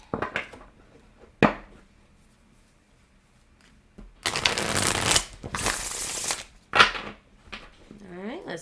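Tarot cards shuffled in two long riffling bursts, loud and close, with a few sharper card taps and a brief voice near the end.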